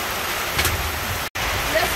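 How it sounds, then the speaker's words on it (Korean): A heavy tropical downpour pours down on children playing outdoor football in Africa, a dense, steady hiss of rain close around, broken by one brief dropout. "비가 많이 옵니다."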